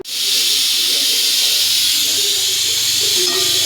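A pressure cooker on a home stove vents steam in one continuous, loud, close hiss that starts abruptly and holds steady to the end, with no voices over it.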